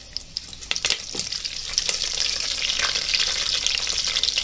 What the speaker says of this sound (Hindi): ये जीरा और ये दालचीनी का टुकड़ा डालेंगे और करी पत्ता और मिर्ची डालेंगे।